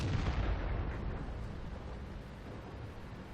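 Heavy artillery fire in World of Tanks, a single loud booming blast with a rumbling tail that fades over a few seconds.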